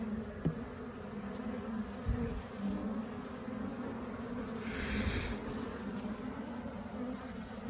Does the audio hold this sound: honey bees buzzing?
yes